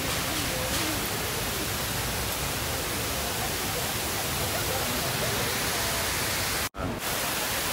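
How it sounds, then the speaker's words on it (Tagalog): Hinulugang Taktak waterfall in Antipolo, a steady broadband roar of falling water filling the whole clip, loud and continuous with a brief dropout near the end. "Ayan po yung falls."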